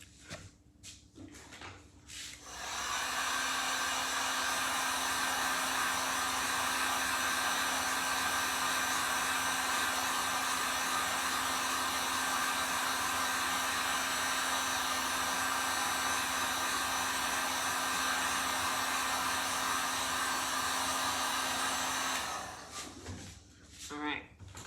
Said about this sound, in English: Now I'm gonna grab my heat gun again.